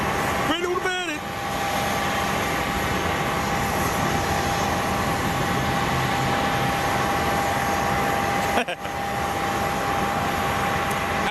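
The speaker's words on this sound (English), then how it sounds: "Cessna 150. He's doing a little, he's just doing a little run-up test." A Cessna 150 propeller plane holds a steady, droning engine run-up at Boeing Field, loud and continuous, with a brief whine near the start and a short break close to the end.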